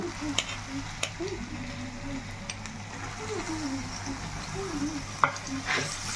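Tomato pieces sizzle in hot oil with dried red chili paste, a steady frying crackle with occasional stirring clinks and scrapes of a utensil in the pan.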